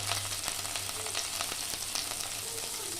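Ginger paste, cumin paste and coriander powder frying in mustard oil in a kadai for a vegetarian dhokar dalna, giving a loud, close, constant sizzle with crackly bursts and no voices.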